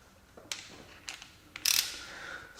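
Torque wrench being adjusted and clicked during reassembly of a Jaguar S-Type AJ-V8 engine block, giving a few sharp separate ratchet clicks and one longer rasping burst, close and fairly quiet with no talk.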